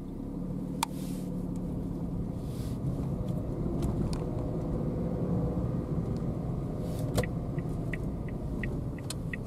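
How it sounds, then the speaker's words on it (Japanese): A car passes along a road near a shrine during a local festival, heard as a steady low engine rumble and tyre noise that swells and fades, with faint outdoor clicks and no talking. "ここ来るね、車ね"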